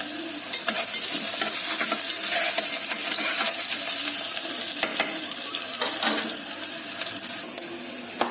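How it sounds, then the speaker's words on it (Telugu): Onions fry in a pressure cooker for a home-style chicken curry, giving a steady close sizzle with frequent scraping and stirring clicks throughout, and no talking. "ఆనియన్స్ అయితే ఉడకాలి బాగా ఫ్రై అవ్వాలి"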